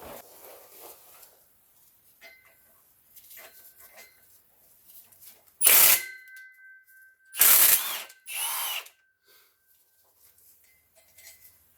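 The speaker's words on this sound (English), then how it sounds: "Okay, I'm gonna remove these bolts from the prop shaft." Prop shaft bolts being removed with a power tool from a Mercedes Vito/Viano W639 with a 722.6 automatic transmission: two loud whirring bursts of the tool, close up, among quiet metallic clinks and handling sounds.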